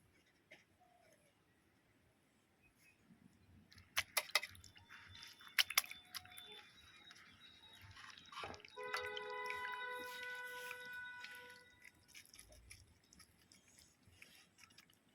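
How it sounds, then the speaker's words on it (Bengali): Washed flowers lifted from a bowl of water, giving scattered drips and soft wet splashes that build to a denser patter of trickling droplets before tapering off; close and fairly quiet, with no talking. "ফুলগুলো আমি তুলে নেব জল থেকে"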